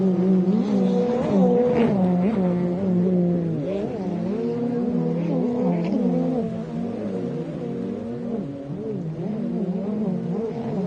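Jet skis race on Lake Havasu, engines whining and revving with rising and falling pitch as several craft pass and overlap, a steady loud buzzing chorus with no voices.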